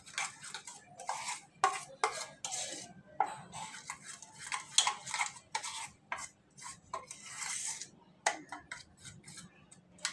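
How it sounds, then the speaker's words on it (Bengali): Sour yogurt whisked in a bowl, a run of close, sharp scraping and clinking strokes against the bowl in uneven bursts, with brief pauses between them and no talk. "এরকম পর্যায়ে আমি টক দইটা একটু ফেটিয়ে নেব এভাবে"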